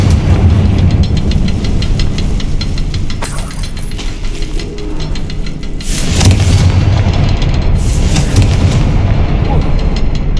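Confringo blasting spells in the video game Hogwarts Legacy go off as a few loud, booming explosions, each a sudden burst over a rumbling game soundscape.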